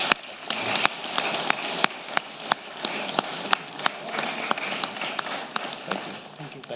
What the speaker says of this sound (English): Let's clap hands for everybody,